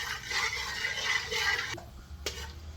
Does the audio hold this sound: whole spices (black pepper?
yes